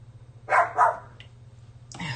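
A dog barks twice in quick succession outdoors, heard from inside at moderate distance, followed by a faint yip and a brief voice.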